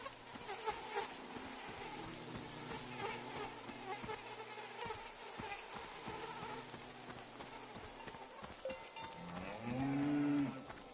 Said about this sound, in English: the name of this cow is TVC-15, oh my.